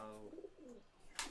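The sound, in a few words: highflyer pigeons cooing in loft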